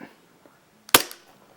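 A single sharp shot from a KJW KP03 G32 gas blowback airsoft pistol, loud and close, with a short metallic slide clack and brief ring-out after near-silence.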